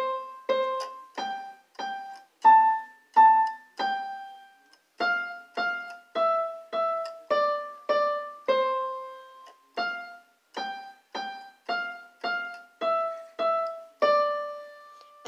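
Keyboard playing the Twinkle Twinkle Little Star melody note by note, clean bell-like tones in a steady rhythm with short pauses between phrases, close and alone.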